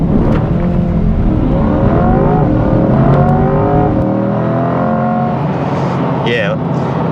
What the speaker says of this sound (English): a lot of wheel spin off the line there, then the throttle deadened, the traction control killed the throttle